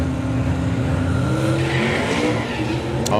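A drag racing car spins its tyres at launch, giving a loud continuous engine roar with rising tyre screech. A sharp squeal cuts in near the end, on a drag strip at Bug Jam.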